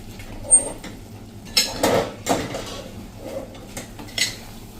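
A spoon scrapes and clinks against a pan while kadai paneer is stirred with homemade cream, giving a few sharp metallic knocks among softer scraping, moderately close, with no talking.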